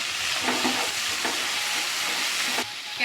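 A spoon stirs ragi rava upma with tomato in a hot pan, giving soft scraping strokes over a steady sizzle, close and alone.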